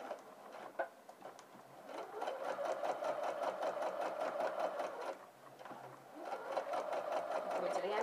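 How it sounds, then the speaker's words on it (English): A sewing machine runs steadily, stitching bias binding along the crease line onto a seam, its fast rhythmic whir pausing briefly midway before resuming, close and moderately loud with no talk. "stitching in the crease line of the actual bias binding"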